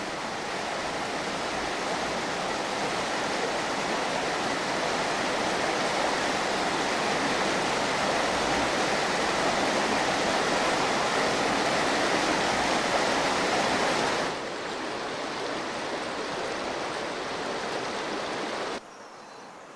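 A river rushes through Box Canyon, a narrow gorge more than 100 feet deep and 15 to 30 feet wide at Mount Rainier, as a steady, dense roar of water that holds unbroken for the length and drops in level near the end.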